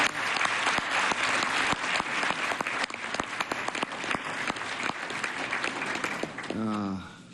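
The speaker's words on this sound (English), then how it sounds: "I would like to give everybody an applause to your wonderful team" Audience at a conference in the European Parliament in Brussels giving sustained, dense applause that fills the room for several seconds, with a voice briefly emerging at the very end as it dies down.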